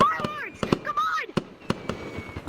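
Fireworks burst outdoors in a rapid, irregular series of loud cracks and pops, with a brief voice at the start.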